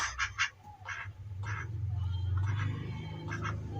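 Several ducks quack in short repeated bursts at feeding time, close by and moderately loud, over a low rumbling background.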